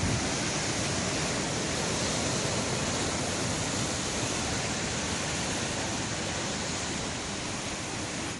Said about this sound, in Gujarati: દીવના દરિયામાં જબરજસ્ત કરંટ દેખાઈ રહ્યો છે